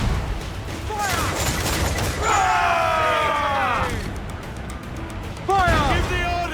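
Ship cannons boom in a rapid volley during a pirate naval battle in Assassin's Creed 4 Black Flag, heavy blasts and crashes layered with shouting voices and whistling projectiles, followed by another burst of fire.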